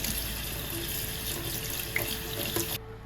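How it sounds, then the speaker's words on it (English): Cold water from a tap runs steadily into a sink over noodles, a continuous close splashing rush that cuts off abruptly at the end. "you could run some cold water over it."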